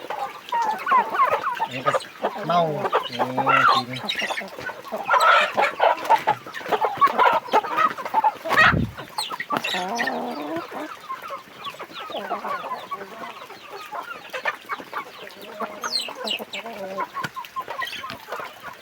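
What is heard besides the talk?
fighting cock roosters clucking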